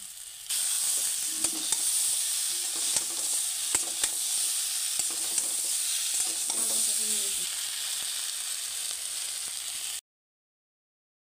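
Mixed vegetable navratan curry sautéing in a pan, a steady close sizzle with occasional scraping and clinking of the stirring spoon, ending abruptly in silence.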